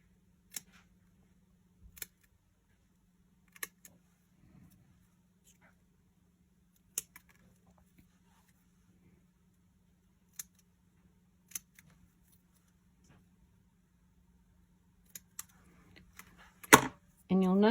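Scissors snip paper edges off a lattice frame in a quiet room, with sparse, isolated cuts spaced a second or two apart under a steady low hum, ending in a louder burst of rustling.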